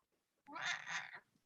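A single drawn-out, unhappy meow from a cat that has just been picked up indoors. It is moderately loud and close, with near silence before and after.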